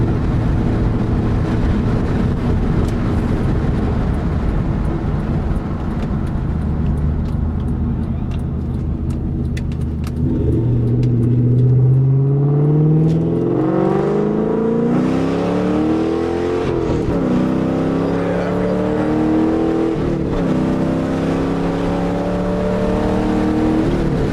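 A New Edge 1999–2004 Mustang GT with 4.10 gears drones steadily while driving, then accelerates hard, its engine note sweeping up repeatedly through the gears, loud and continuous.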